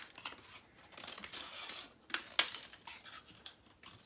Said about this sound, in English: on the edges, I'm going to cut out a bunch of triangles